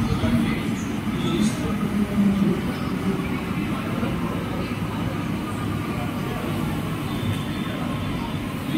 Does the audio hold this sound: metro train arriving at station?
yes